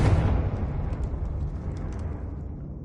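Confringo fire blast spell exploding in Hogwarts Legacy, a loud burst at the start followed by a long, rumbling decay with faint crackles trailing off over a few seconds.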